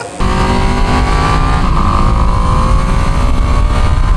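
A 2025 Ducati Panigale V2 sport motorcycle runs loud and close while being ridden, its engine holding a steady, rough drone that rises slightly in pitch partway through.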